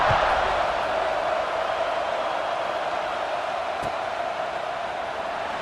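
A stadium crowd roars at a college football video game, Iowa against Texas Tech, as a steady dense wash of cheering noise that holds loud and unbroken throughout.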